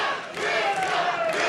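A pro wrestling crowd at a four-way championship match roars and cheers steadily for Wes Brisco, a dense wall of voices and yells sustained throughout without a break.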